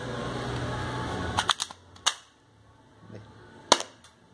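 Plastic 9mm toy pistol firing BB pellets, a few sharp dry snaps spaced unevenly with a couple of brief clicks between, close and crisp, following a short burst of handling noise.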